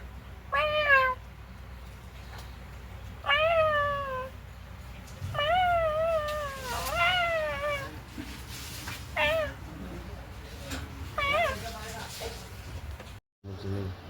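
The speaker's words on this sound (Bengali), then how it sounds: "দেখো কি অবস্থা এই বিড়ালগুলোর" Several cats trade drawn-out, wavering meows and yowls, one after another, fairly close, with short quiet gaps between the cries.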